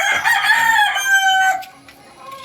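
A rooster on a farm crows loudly and close, one drawn-out call that fades, followed by softer background clucking.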